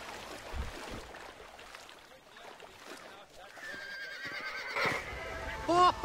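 Horses whinny near the end of a scene in the Western video game Red Dead Redemption on Xbox 360, brief high neighs rising over water and ambient game sounds, with a voice talking earlier.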